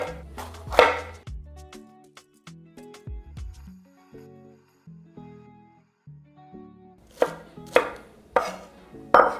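Knife chopping red pepper on a board, sharp irregular cuts close by, sparse in the middle and quickening into a cluster of louder strokes toward the end.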